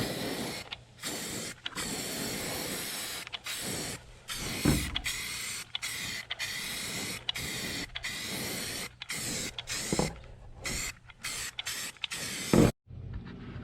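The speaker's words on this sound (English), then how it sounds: "more comfortable way of applying paint from a spray can" Primer sprayed from an aerosol can onto a VW Thing hardtop, a steady close hiss in long bursts broken by short pauses between passes, with a few clicks near the end.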